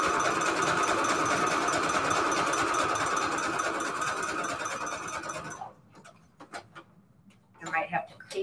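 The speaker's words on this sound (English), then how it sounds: "I might have to clean up my sewing machine in here." A sewing machine stitches a zigzag onto paper envelopes, a steady, loud mechanical buzz that runs for several seconds and then stops. Quieter clicks and a voice follow.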